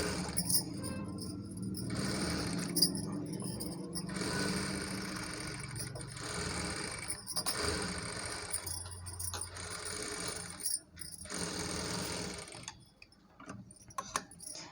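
A sewing machine runs through saree fabric for a long frock, whirring steadily with a rapid ticking rhythm and brief slowdowns and pauses, heard close by throughout.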